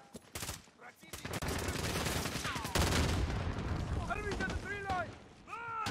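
Rapid automatic gunfire and blasts from Call of Duty: Modern Warfare (2019) ring out in dense bursts, mixed with shouting voices and short rising whistling tones toward the end.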